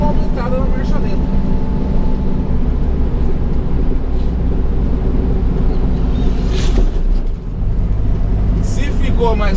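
A 1972 VW Fusca 1500 engine idles steadily and close by after its idle speed was raised, a continuous low rumble that runs unbroken through the whole stretch.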